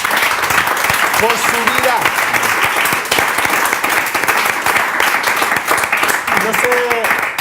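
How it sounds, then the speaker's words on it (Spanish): A church congregation bursts into loud, sustained applause, many hands clapping densely throughout while a voice speaks briefly over the noise. "Yo le daría un aplauso a Dios"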